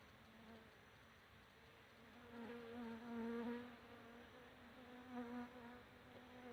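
Honeybees fly in and out of a nuc hive entrance fitted with an entrance reducer in Yaguarón, Paraguay, a quiet close buzzing drone that swells and fades as bees pass.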